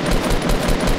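Rapid automatic gunfire in a Fortnite duo battle royale match, a dense burst of repeated loud shots running through the whole second with no voices over it.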